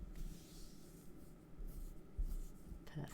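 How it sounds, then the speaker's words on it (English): Rubber stamps being wiped clean by hand while card-making, a soft, steady rubbing and scrubbing texture running throughout, close and fairly quiet, with a brief faint tap near the end. "Just cleaning off my stamps."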